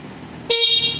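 An H1 e-bike's electronic horn beeps once in a steady high-pitched tone of about half a second, starting abruptly after a quiet moment.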